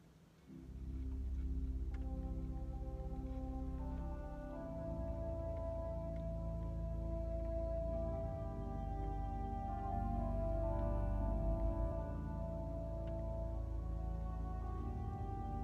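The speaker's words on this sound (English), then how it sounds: "this is the sound of the cor anglais here on the Walker instrument, sampled from E.M. Skinner in Princeton." Sustained reedy melody on the cor anglais stop of a Walker digital organ, sampled from an E.M. Skinner organ in Princeton, playing Vaughan Williams' Romanza from Symphony No. 5 over soft low accompaniment, with no talking.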